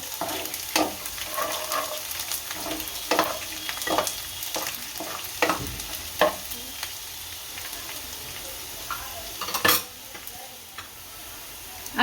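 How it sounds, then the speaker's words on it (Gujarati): Garlic fries in oil in a pan for a Gujarati kulthi (horse gram) curry while being stirred, a steady sizzle punctuated by frequent sharp scrapes and clinks of the spoon against the pan. "હવે લસણ નાખીશું, આને શેરવી નાખશું। લસણ લાલ થાય ત્યાં સુધી સળવા દેવાનું।"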